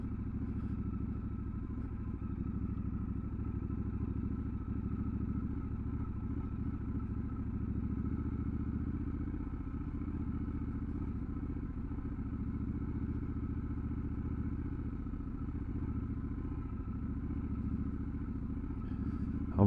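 A Triumph Scrambler 1200 XE motorcycle rides off-road, its engine giving a steady, loud low rumble throughout with occasional clatter and thumps from rough ground.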